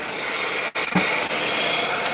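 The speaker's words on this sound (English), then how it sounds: "My mother is using a leaf blower" A leaf blower runs steadily outside, a loud, continuous broadband engine roar that holds throughout with only a brief dip partway through.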